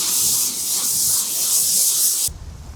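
Ceramic sealant is sprayed onto a car panel in a continuous close, loud hiss from a spray bottle that cuts off abruptly near the end, during a winter car wash.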